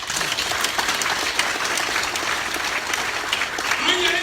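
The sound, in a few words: crowd applause for the president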